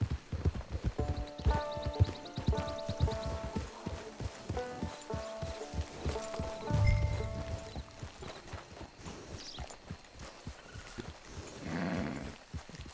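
Horse hooves clip-clop at a steady walking gait in a Red Dead Redemption 2 camp scene, moderately close, mixed with soft game ambience and music-like tones, with a brief low thump midway.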